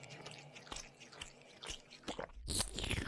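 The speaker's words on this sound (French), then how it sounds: "Suce le précieux liquide et croque le doigt de pied." A creature bites and crunches into a toe, a horror audio-drama effect: a run of close, wet chewing and crunching bites with squishy snaps, ending in a sharper, louder crunch.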